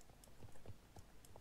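Horse hooves clip-clop on the ground in a video game, quiet and fairly close, with about six or seven uneven steps in quick succession and no talk.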